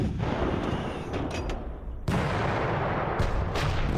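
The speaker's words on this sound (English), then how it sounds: "Hit by artillery there." Simulated artillery fire striking units in the wargame Panzer Campaigns Kiev '43: a dense barrage of booming, crackling blasts, with a sharp loud impact midway and more shots after it, heard without voices.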